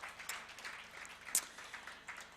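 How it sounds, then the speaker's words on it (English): Applause from a conference audience at an interfaith gathering, scattered claps forming a fairly soft, diffuse patter with one sharper clap standing out midway. "So please give a big applaud for Reverend Henrik Grape and for Matthias"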